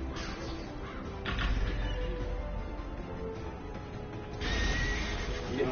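Horse whinny in a video game, two loud neighing calls a few seconds apart over a steady low game backdrop with mechanical clicking.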